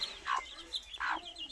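A mother hen clucks to her tiny chicks as they feed beside her, two soft clucking bursts close by with quiet peeps between, no one talking.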